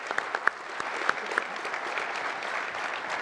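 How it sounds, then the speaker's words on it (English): An audience applauds a panel at a chapter event, with a steady wash of moderate clapping from a room of people, a few sharper nearby claps standing out, and no talk over it. "Ladies and gentlemen, if you'll offer a round of applause for this panel right here,"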